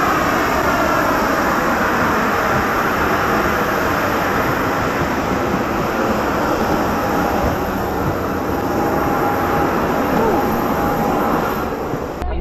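Airliner cabin noise from a plane just touched down at a Las Vegas airport, a steady loud broadband roar of engines and rolling that holds throughout, with a faint tone and light voices underneath.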